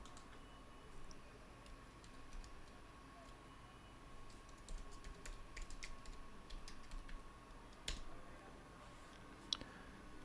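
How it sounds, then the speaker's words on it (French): Steady typing on a computer keyboard, a quick run of light clicking keystrokes heard close but fairly quietly throughout, with no talking. "on va taper donc TikTok Live Studio"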